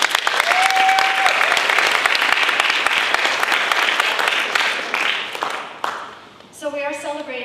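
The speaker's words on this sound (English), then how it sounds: "give them a big round of applause" A graduation ceremony audience breaks into loud, sustained applause that fills most of the moment before thinning out, with a brief voice or cheer rising at the very end.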